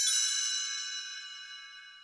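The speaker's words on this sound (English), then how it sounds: "You will know it is time to turn the page when you hear the chimes ring like this." A single bright chime rings out to mark a page turn in a read-along storybook, a clear shimmering tone struck once and slowly decaying on its own.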